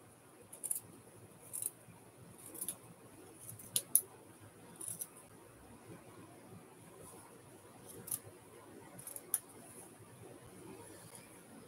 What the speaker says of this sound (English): Now the terrifying moment of cutting up that slit.